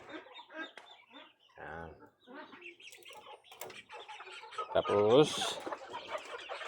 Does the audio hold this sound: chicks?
yes